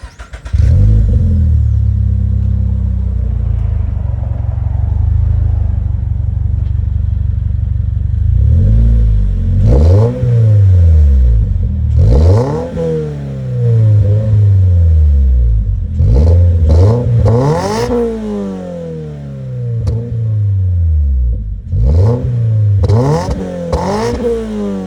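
A 2022 Subaru BRZ with a MagnaFlow catback exhaust and equal length headers starts warm, settles into a loud steady idle, then snaps through a series of sharp revs that climb and fall back repeatedly, slightly raspy at the top.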